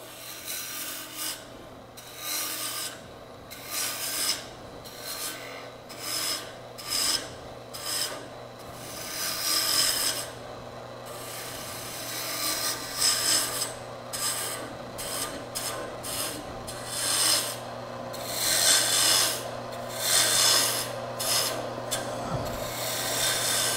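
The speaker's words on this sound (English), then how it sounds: "I'm going to go back to the roughing gouge a little bit because most of this is going to be, I got a lot of material to remove now" A roughing gouge cuts wood on a lathe while an inside-out Christmas ornament is turned, giving a steady, close rasping scrape that comes in repeated passes with brief pauses, heard alone without speech.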